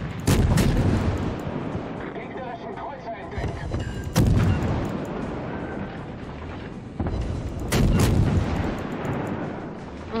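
Ship artillery salvos in World of Warships boom out in heavy bursts, about four broadband blasts spaced across the stretch with rumbling battle noise between them, while a voice talks underneath.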